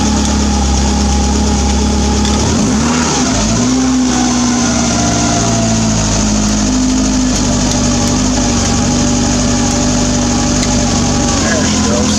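A homebuilt W.A.R. Corsair replica's aircraft engine runs at a steady idle with a droning, vibrating tone and a brief shift in pitch partway through, close and loud throughout.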